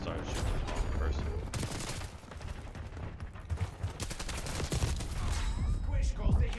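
Rapid SMG gunfire from Call of Duty Black Ops 6 rattles in dense bursts across the whole stretch, mixed with game effects and some speech underneath.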